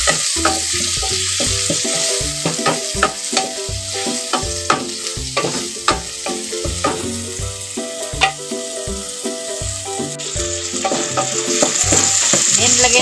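Sponge gourd (patola) sautés in a hot pan for a sardine dish, with a loud continuous sizzle and frequent rhythmic scrapes and clacks from stirring.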